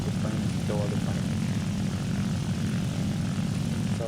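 Propeller fighter plane engine droning steadily in War Thunder, a thick low rumble with a humming, throbbing tone held at constant power for the whole stretch, while someone talks faintly over it.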